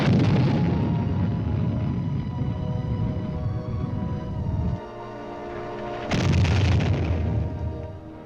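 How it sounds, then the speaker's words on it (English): La Crosse artillery firing, heavy booming blasts from a modern missile weapon, loud and sustained with a rumbling tail and a second sharp burst partway through. "La Crosse, yet another in the ever-growing family of our modern artillery."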